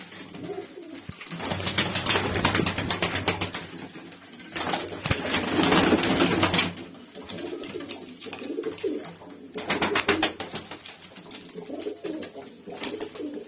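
Turkish tumbler pigeons coo in repeated bursts, loud and close, with rhythmic pulsing calls separated by quieter gaps, and no talking over them.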